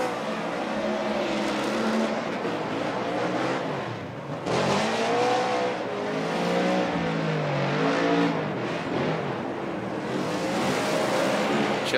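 Chelsea Denofa's number 88 drift car on a competition run, engine screaming near the limiter with repeated rev surges and dips, tire squeal and a crowd-laden roar, loud and continuous with a brief lull midway.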